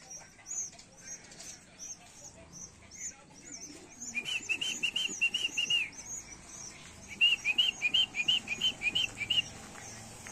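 Pigeons chirp in quick repeated bursts while flying, with soft wing flutters and faint background chatter, fairly distant and moderate in volume.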